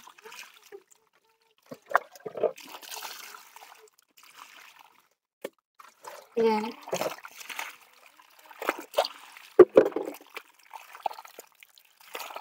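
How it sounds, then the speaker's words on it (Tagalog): Water splashes and trickles in short, intermittent bursts, close by, while laundry is rinsed at a well in the Philippine countryside, with a few brief words spoken in between. "Masyadong maraming tubig naman po dito."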